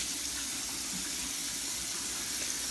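Tap water runs steadily over an alum block being rinsed after a shave, a quiet, even splashing stream with no talk.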